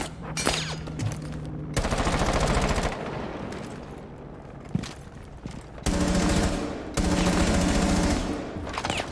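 Bursts of rapid automatic gunfire from players shooting in an online multiplayer video game match, loud sustained volleys separated by short gaps with quieter game ambience between them.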